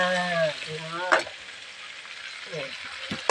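Surf clams stir-fry in a pan, sizzling and scraping with stirring strokes, while someone talks over the cooking in brief bursts.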